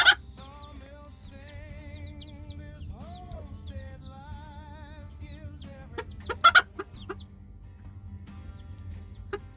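A farmyard hen clucks and warbles in a steady run of short calls, fairly close, with a couple of sharper squawks partway through and quiet background rustle; no talking.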